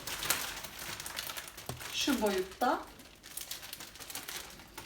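Plastic bags crinkle and rustle in short bursts while someone talks briefly in Turkish over the handling, packing a baby's hospital bag.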